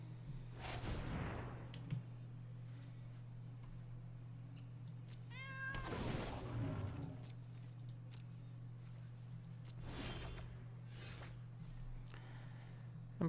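Faint cat meows come from the Ember Kitty card in a digital card game, several soft calls spread over a steady background hum.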